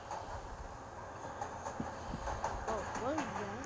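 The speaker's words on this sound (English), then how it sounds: "Oh, what is that? It's the train!" A train in the Roblox game Jailbreak rumbles past with a steady rolling clatter of wheels, while children talk excitedly over it.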